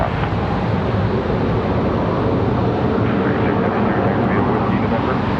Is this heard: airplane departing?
yes